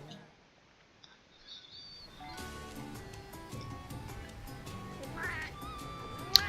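Cat-like calls from a Monster Hunter 3 Ultimate companion cat, a few short mews over game music and ambient effects, moderately loud, with no talking.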